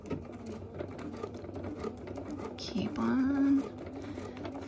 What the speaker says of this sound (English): I better get my needle down before I sew through this.